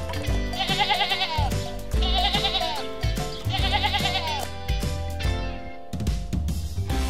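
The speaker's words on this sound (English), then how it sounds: "sheep" Sheep bleat in three repeated wavering calls over upbeat background music, each bleat loud and close, spaced about a second apart before the music carries on alone.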